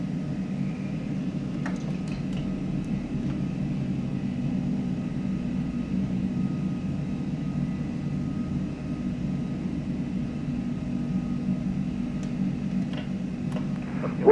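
An Aerosoft A330 jet in the Prepar3D simulator rolls for takeoff, its engines a steady broadband roar with a low rumble throughout, even and unbroken at moderate level, with a few faint clicks over the top.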